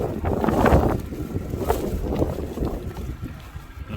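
Strong wind gusts sweep across outdoor tennis courts where a baseball team practices, a steady loud rumble with swelling buffets hitting the microphone throughout.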